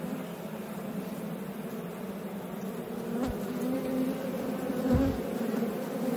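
Steady, dense buzzing of many bees from an opened, long-neglected abandoned beehive, close and continuous, with a couple of brief louder passes nearby.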